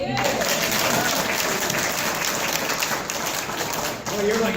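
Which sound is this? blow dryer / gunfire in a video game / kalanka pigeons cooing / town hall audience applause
town hall audience applause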